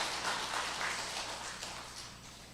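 A Sunday service congregation at Sokcho church applauds warmly. The clapping is a steady, fairly faint wash that holds for the whole stretch, with a low hum underneath.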